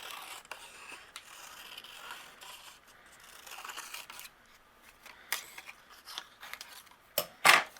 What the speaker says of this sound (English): use my scissors, I'm going to freehand a hillside